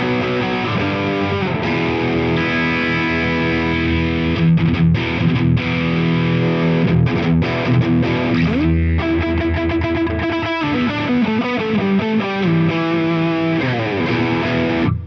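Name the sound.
electric guitar through Eventide Riptide digital drive pedal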